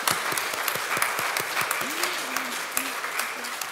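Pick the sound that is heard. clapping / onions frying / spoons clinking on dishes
clapping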